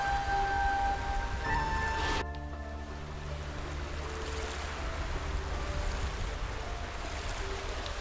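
A waterfall in Octopath Traveler 2 by a ruffians' hideout, a steady broadband rush of falling water that takes over after a brief musical passage ends, continuous and moderately loud with no voices.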